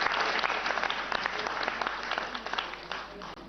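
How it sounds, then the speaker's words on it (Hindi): A hall audience at a government quiz show claps together in a dense, steady burst of applause, fairly close, fading briefly near the end. "इसका करेक्ट आंसर तालियां बजाइए।"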